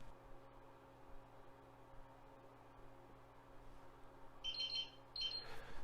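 Near the end, a few short high-pitched electronic beeps sound in quick succession as a firmware flash upload completes, over a quiet, humming background.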